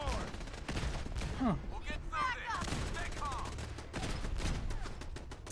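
Gauss rifle gunfire in the video game Fallout 4, heard as fairly faint repeated shots and bursts amid game noise and whooshing effects, with a brief voice murmuring once.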